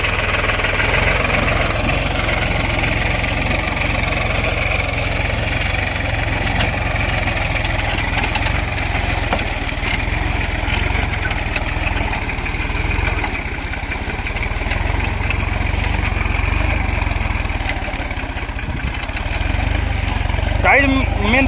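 A Solis 4515 tractor pulling a Lemaken OPL 90 plough runs with a loud, steady low engine drone throughout, close by and unbroken for about twenty seconds.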